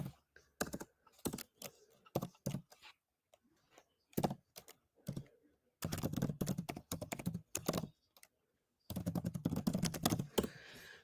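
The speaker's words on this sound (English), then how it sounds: "It's less of me with my hand typing on the laptop, taking notes." A hand types notes on a laptop keyboard in bursts of rapid, close clicks and taps, with pauses between flurries and no voice over them.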